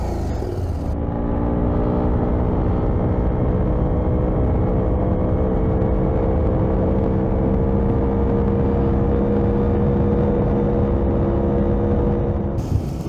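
A Husqvarna Norden 901 motorcycle in street mode runs steadily at high speed, its engine note a loud, continuous drone with rising harmonics under heavy, constant wind rush for about twelve seconds.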